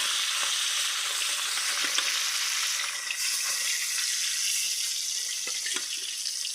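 Marinated fish fries in hot oil in a pan, a loud, steady, close crackling sizzle with scattered pops running throughout without any talk.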